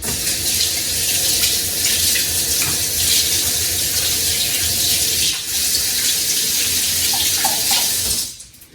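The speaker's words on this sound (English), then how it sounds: "Rinse off my hands real quick." A kitchen faucet runs in a strong, steady stream while hands are rinsed under it during meal prep, close and loud, then the flow shuts off abruptly at the end.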